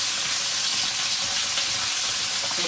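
Chicken frying in hot oil in a pan as it browns, a steady close sizzle that runs unbroken throughout with no talk.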